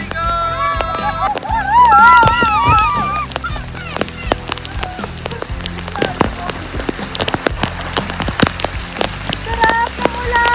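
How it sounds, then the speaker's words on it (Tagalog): Heavy rain pours at Vanilla Beach in El Nido during a storm, a dense, close patter throughout while excited voices shriek and chatter over it. "Sarap ng ulan!"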